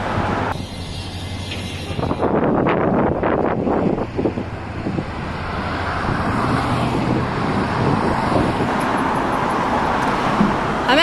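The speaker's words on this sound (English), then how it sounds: "Right now I'm walking down a really busy street with a lot of wind and construction and traffic." Busy city street with gusty wind buffeting the microphone, steady passing car traffic and construction noise, loud and continuous, with a vehicle rushing by near the middle.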